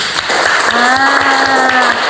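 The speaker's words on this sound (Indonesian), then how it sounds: "Tepuk tangan buat Habibi." A classroom breaks into brief applause, a short burst of clapping from a group of students overlapping with a voice and a rising tone.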